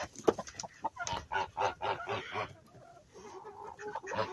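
A rooster and hens on a farm flock kept alongside Toulouse geese, giving repeated clucks and squawks, near and fairly loud, in a busy run of calls with no talking.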